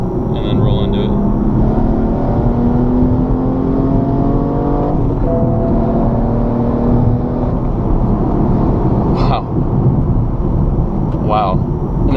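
A BMW E85 M235i engine revs up under load in third gear, pitch climbing steadily, loud and close, with brief interruptions near the end.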